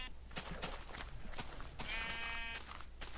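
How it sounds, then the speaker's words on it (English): Sheep bleat in a video game, a wavering, harmonic bleat rising clearly above steady game background noise and scattered clicks, with people talking around it. "Oh wait, I need sheep."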